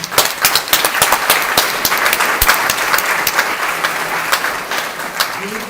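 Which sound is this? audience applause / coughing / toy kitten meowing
audience applause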